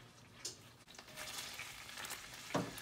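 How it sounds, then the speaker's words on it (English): Minced garlic frying in butter in a pan, a steady close sizzle with a faint crackle throughout, broken by a few brief clinks and scrapes of stirring, with one sharper knock near the end. "Let that fry in, let the taste, just marinate in the butter"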